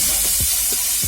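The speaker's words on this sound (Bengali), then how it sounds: "পেঁয়াজটা যাতে একটু ভাজা ভাজা হয়ে আসে," Onion paste frying with nigella seeds in a pan for a spicy small-fish curry makes a brief, loud, even sizzle with a few soft stirring knocks underneath.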